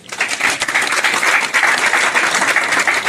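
Steady applause from a crowd, dense clapping that fills the whole moment at an even, loud level without pause.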